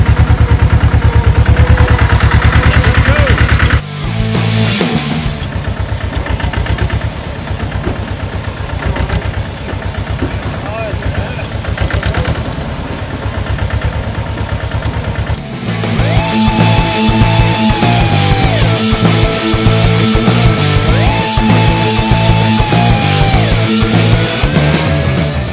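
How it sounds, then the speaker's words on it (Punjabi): A small tractor hitched to a trolley runs loud and close on a farm, its engine thumping steadily, dipping in level then rising again with heavier rhythmic clatter and tonal whine in the later part. "ਅੱਜ ਆਪਣਾ ਛੋਟਾ ਟਰੈਕਟਰ ਕੱਢਿਆ"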